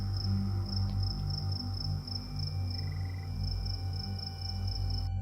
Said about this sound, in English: the eerie chirping of crickets fills the dark